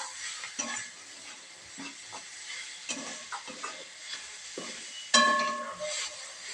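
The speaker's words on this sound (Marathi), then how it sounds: "आता मी यामध्ये तीळ घालून घेते आणि हलवून घेते" Sesame seeds are stirred into a coriander and gram-flour mixture for kothimbir vadi, producing soft scraping and rustling strokes in an irregular rhythm, close and fairly quiet, with a brighter clink near the end.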